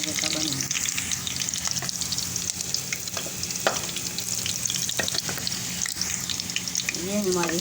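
Green chillies fry in a pan with a steady, bright sizzle and crackle, joined by occasional scraping and stirring sounds of a utensil against the pan.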